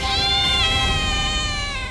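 A cat meows loudly and close up in one drawn-out, wavering call that fills the whole short moment on its own.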